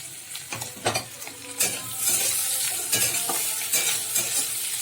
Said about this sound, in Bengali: এই যে একটু ভেজে নিচ্ছি নুন দিয়ে।